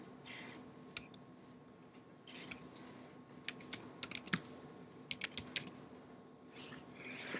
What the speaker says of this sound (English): we can start typing a search here